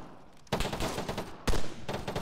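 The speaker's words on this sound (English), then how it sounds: "Is that a pistol close to me?" Pistol gunfire in ARMA 3: two loud, close shot bursts about a second apart, each followed by a rough, noisy tail.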